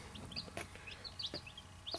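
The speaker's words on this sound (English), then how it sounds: "just picked up the chickens a few hours ago" Several three-day-old baby chicks peep in high, thin chirps, scattered and overlapping, heard faintly over a low background hum.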